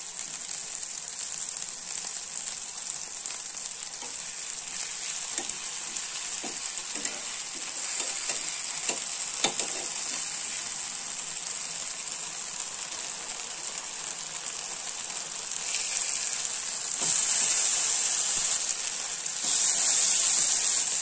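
Chicken chops sizzle steadily in oil on a flat tawa, a continuous bright frying hiss that swells louder near the end, with faint scraping of stirring underneath and no talk.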